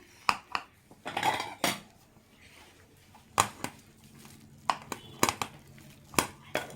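Rice being ladled onto a plate: a metal spoon or ladle clinks against dishware in sharp, irregular taps, some clustered, with scraping between, close and fairly quiet.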